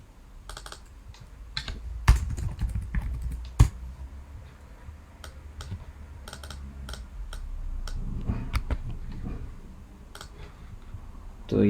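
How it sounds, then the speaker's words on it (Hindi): Someone types on a computer keyboard, irregular bursts of close key clicks with a few sharper, louder taps and short pauses between runs, no speech. "मैं यहाँ टाइप कर देता हूँ"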